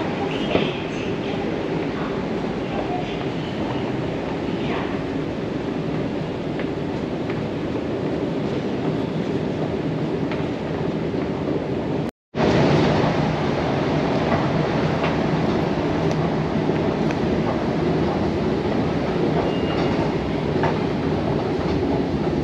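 A metro train on Line 4 at a Hangzhou subway station, steady rolling rumble with rail clatter running continuously and loud, broken by one abrupt brief dropout midway, no talk over it.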